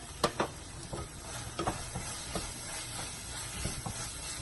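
Chili and turmeric powder get stirred into onion masala frying in a pan for chicken salna, a faint steady sizzle with soft scraping spoon strokes at an irregular pace.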